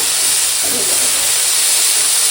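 Dry red chili tempering sizzling in hot oil as vegetables go into the pan, a loud, continuous broadband hiss close up from start to finish.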